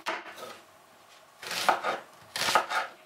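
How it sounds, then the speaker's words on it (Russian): A large onion is cut into quarters on a board, giving several crisp knife chops in two close bursts separated by a quieter gap, near and fairly loud, with no speech. "Лук разрезаем на половинки или четвертинки"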